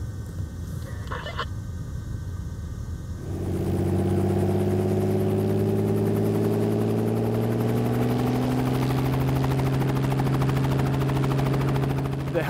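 A helicopter's loud, steady mechanical drone with a throbbing rotor hum begins after a few seconds of quieter background and holds on without a break.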